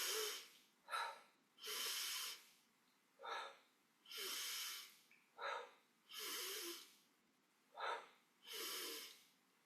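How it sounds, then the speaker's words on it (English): Rapid active yoga breathing in a Kundalini breath-of-fire style, a series of forceful nasal bursts alternating short sharp huffs with longer rushing exhales in a steady rhythm, close and fairly loud with no talking. "But if you want to do very active breathing,"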